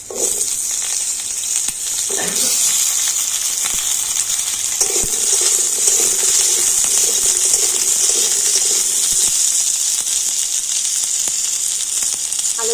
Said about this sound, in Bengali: ওই তেলের মধ্যে এখন আমি দিয়ে দেবো আলু প্রথমে আমি আলুটা একটু ভেজে নেব